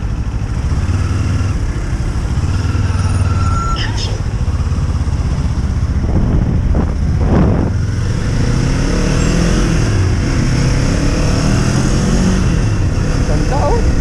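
A sports car engine runs close by with a steady low rumble and some revving, loud and continuous, while someone talks over it.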